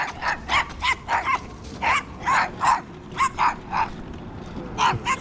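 A small dog yaps repeatedly nearby in quick, uneven bursts, about a dozen sharp barks with brief gaps between them.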